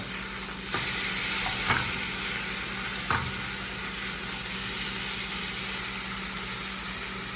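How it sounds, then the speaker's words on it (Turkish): Meat frying in a little oil sizzles steadily at close range, with a couple of short stirring clatters early on and no one speaking. "az bir yağ ile pişirmeye çalışıyorum"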